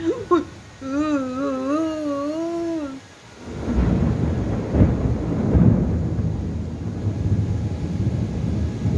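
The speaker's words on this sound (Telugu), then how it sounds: "మెరుపులు దగ్గరుంటే సౌండ్ కూడా వస్తుంది" Thunder rolls through a rainstorm with lightning nearby. A short, high wavering cry comes first, then a long, loud, rumbling roll of thunder lasts over the patter of rain to the end.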